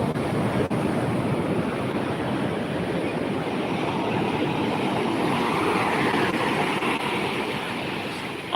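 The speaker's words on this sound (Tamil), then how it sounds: "என்னை சுற்றி வளர்த்து அந்த அலை வந்து தண்ணி வந்து மேலே போயிடுச்சு" Continuous roar of ocean surf washing in, steady and loud with wind rushing over the microphone, no voices.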